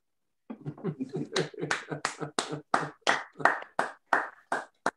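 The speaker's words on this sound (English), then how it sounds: "I think that is worth a round of applause" A small group claps for a first-time Pushcart nominee, a sparse, slightly uneven run of hand claps that speeds into steadier bursts, close and intimate, with no crowd roar.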